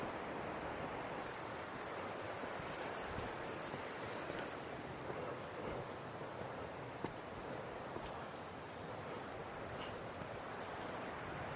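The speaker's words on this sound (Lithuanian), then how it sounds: "Oi, kaip upė gražiai teka." A river flows past in a soft, continuous rushing wash that stays faint and even throughout, with no talking.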